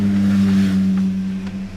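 Motorcycles roll slowly past a queue of waiting vehicles at a border crossing, a close, steady engine drone that holds evenly for under two seconds with no talking.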